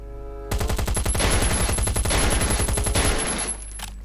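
Rapid automatic gunfire shooting at a bed in the game Last Island of Survival, a loud, steady stream of evenly spaced shots lasting about three seconds before stopping abruptly.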